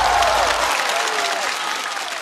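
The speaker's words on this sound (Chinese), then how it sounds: "热烈的掌声送给贾浩。" A stand-up comedy show audience claps loudly and densely, a sustained burst of applause with a faint voice beneath it.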